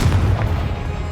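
A single heavy explosive blast of the Confringo spell in the Hogwarts Legacy video game, a deep loud boom at the start that rumbles and fades over about a second.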